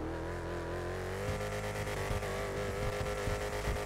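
A modified drift car's engine in a GTA 5 mechanic game, idling steadily with a rising, sustained rev and harmonic whine throughout, loud and close, no talking.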